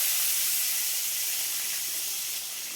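Black mustard seeds and slit green chillies sizzle in hot oil with a loud, continuous hiss that stays even and close throughout, with no talking over it.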